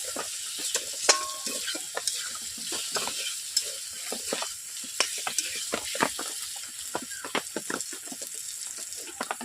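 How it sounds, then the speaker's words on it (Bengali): Potatoes sautéing with spice masala in oil in a pan, a bright continuous sizzle broken by frequent scraping strokes of a spatula, close and fairly loud. "পর 2 মিনিট কষিয়ে নেব আলুগুলোকে।"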